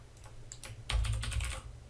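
An answer is typed on a computer keyboard in a brief run of crisp, close keystrokes, a few scattered taps first and then a quicker cluster, with no talking.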